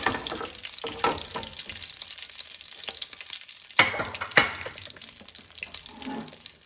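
Bacon sizzles in a pan with a soft continuous crackle, broken by a few sharp clatters and scraping knocks of utensils or cookware, with no talking.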